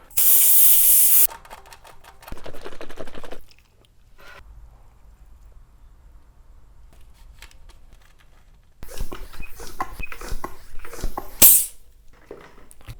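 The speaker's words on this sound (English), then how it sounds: "pulling out the valve core and injecting some sealant directly into the tire" Sealant is squirted through an open valve into a tubeless carbon gravel wheel's tire, a loud hissing spray burst at the start, a short second spray, then quiet before brisk handling and rustling noises return.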